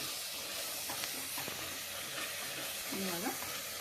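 Green masala for chicken curry frying in a pan, giving a soft, steady sizzle and hiss with occasional stirring scrapes, fairly quiet and close.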